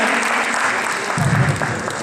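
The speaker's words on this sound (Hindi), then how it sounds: "तो एक बार जोरदार तालियां बजा दीजिए यहाँ" An audience at a school function gives loud applause, a thick continuous crowd clapping that stays strong throughout, with a faint murmur of voices mixed in.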